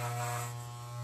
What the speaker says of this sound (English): I'm shaving the back of your head.